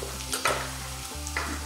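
Spices sizzling in a hot pan while sambar cooks, a steady frying hiss with brief stirring scrapes, close and continuous with no talking.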